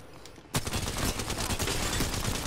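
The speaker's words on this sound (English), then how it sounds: "I'm getting shot at" Sustained gunfire in the Apex Legends video game, a dense fusillade of rapid shots erupting abruptly after a quieter opening and continuing loud and close to the end.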